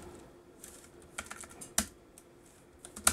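Sparse keystrokes on a Raspberry Pi computer keyboard, a handful of quiet, irregular clicks with a few sharper taps, close up in a quiet room.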